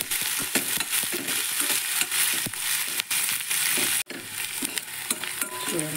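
Food frying in hot oil in a kadai, a steady sizzle with repeated stirring and scraping of a spatula against the pan, close and fairly loud throughout, with sharp knocks now and then.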